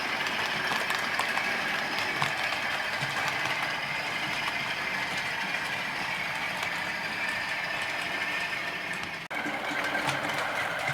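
A weathered model Class 47 locomotive running slowly over a Peco streamline point on a model railway layout: a steady, close, whirring motor hum with fine ticking wheel noise, continuous, with one brief dip near the end.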